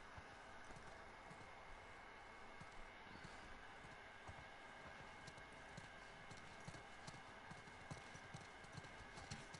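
Horses' hooves clip-clop in a steady walking rhythm throughout a quiet scene in The Last of Us Part II, faint and continuous under soft ambient game sound.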